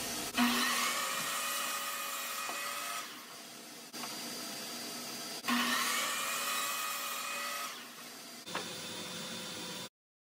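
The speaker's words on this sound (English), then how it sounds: "Next, I cut two 7-inch sections for the legs using 1x2 lumber." A miter saw cutting 1x2 lumber for a bathtub tray build, two separate whining cuts, each starting with a sharp spin-up, holding a steady motor scream and then winding down, close and loud.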